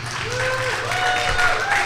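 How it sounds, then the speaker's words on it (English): An audience applauds for voice actor Bob Joles at a fan event, a steady wash of clapping under faint overlapping voices and tones. "Give a big round of applause to Mr. Bob Joles."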